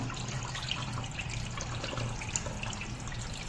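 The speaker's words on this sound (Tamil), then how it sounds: "அந்த தண்ணியும் இந்த மாதிரி நல்லா வடிச்சிருங்க" Rice rinse water trickles and pours steadily at low volume, a soft continuous splashing like liquid draining from a container into a sink.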